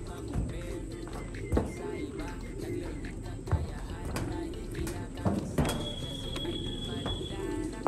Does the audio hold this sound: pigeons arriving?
yes